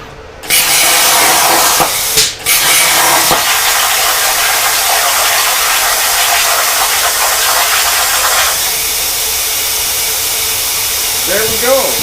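A Langmuir CrossFire XL CNC plasma cutter cuts metal with a loud, continuous roaring hiss that runs nearly the whole time and eases slightly toward the end, with a brief dip early on.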